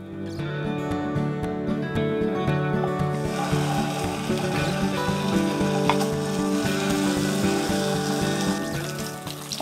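Tofu frying in hot oil on a pan, a steady loud sizzle with crackling that grows denser partway through, alone without talk.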